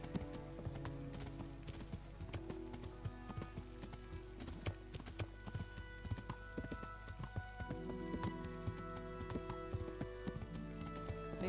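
A dappled grey horse's hooves pound in a rapid, steady clip-clop gallop in Kingdom Come: Deliverance, continuous and fairly close, over a low background of ambient music.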